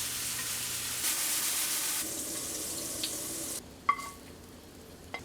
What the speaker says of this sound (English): Brown the meat on medium-high.